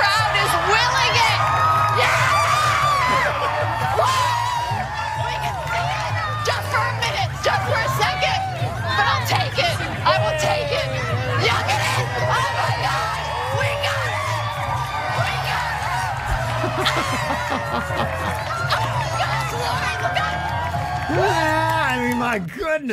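A large outdoor crowd cheering, whooping and shouting through a solar eclipse totality, dense sustained roar with children's shrieks and overlapping voices, loud and continuous throughout.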